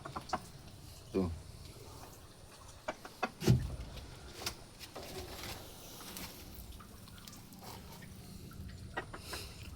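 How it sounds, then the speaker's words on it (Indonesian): Sasso breed chickens clucking in a coop during egg collection, a few short clucks and squawks over quiet background noise, fairly close. "Ini jenis ayam saso teman sekalian tuh."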